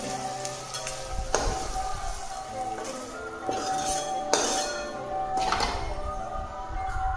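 Food fries in a kadai for a vegetable biryani, a soft sizzle joined by several sharp metal clinks and scraping stirs of a spoon against the pan, fairly quiet and without talking.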